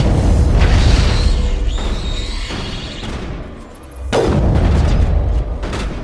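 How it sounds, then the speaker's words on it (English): Enemies exploding near the squad in Mass Effect 1, heavy booming blasts with deep rumble, one big burst opening and another sudden loud explosion midway, followed by crackling debris. "They just explode when they get near us, I suppose?"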